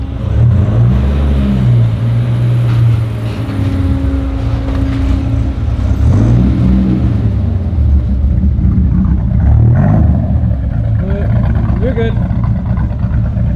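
A Dodge Viper GTS V10 idles nearby with a deep, uneven loping rumble that pulses in a slow rhythm. Brief talk rises over the steady low engine note.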